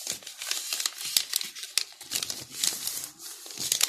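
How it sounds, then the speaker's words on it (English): Two sheets of paper are folded and creased by hand, giving close, continuous crinkling and rustling with sharp crackles, heard alone without talk. "Two papers, but this time we are gonna fold it this way."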